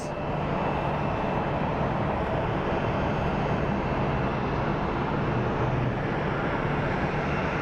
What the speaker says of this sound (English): what you guys hear right now is a 737 coming in, operated by United Airlines